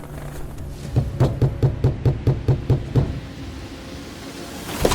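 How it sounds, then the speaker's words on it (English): A series of about ten evenly spaced knocks on a door, fairly close and distinct, rapping in a steady rhythm before falling quiet. "she heard a knock"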